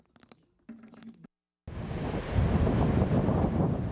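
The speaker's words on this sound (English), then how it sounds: "The combination of wind and lake effect snow" Strong wind in a lake effect snowstorm at Sheboygan, a heavy, steady roar buffeting the microphone that swells after a brief run of unrelated sound and a short silence.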